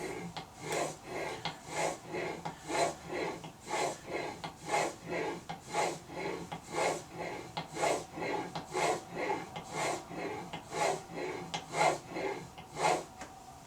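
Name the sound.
chisel being sharpened on sandpaper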